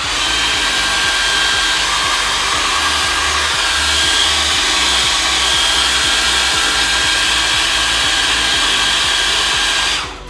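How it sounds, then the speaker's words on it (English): Hair dryer blowing steadily to speed up drying paint on a weathered model truck, a loud continuous whoosh and whine lasting the whole stretch before cutting off at the end. "handy dandy paint drying speeder upper"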